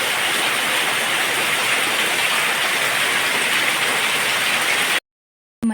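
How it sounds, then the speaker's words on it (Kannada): Heavy rain pours steadily, a dense, loud hiss of drops on surfaces that continues unbroken for about five seconds before cutting off abruptly. "ಮಳೆ ಜೋರು ಉಂಟಲ್ಲ ಹಾಗೆ"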